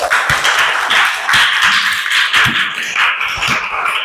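Students in a classroom clap together, a dense, fairly close burst of applause that carries on steadily without talk.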